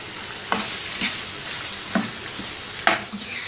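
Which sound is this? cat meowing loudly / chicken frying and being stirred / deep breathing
chicken frying and being stirred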